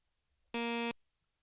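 A single harsh buzzer sound effect blares for under half a second, a loud, rich electronic tone that starts and stops abruptly in otherwise near silence.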